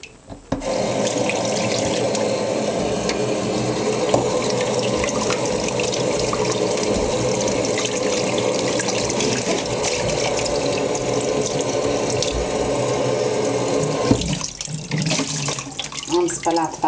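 Water runs steadily from a kitchen tap as a whole pheasant is rinsed under it, a loud continuous splashing stream that breaks briefly near the end before carrying on.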